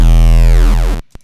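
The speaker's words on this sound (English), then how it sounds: "bit crusher" A loud, buzzy sustained synth bass run through Ableton's Roar bit crusher distortion plays alone with a dense stack of gritty harmonics, then stops abruptly around one second, followed by a brief short burst.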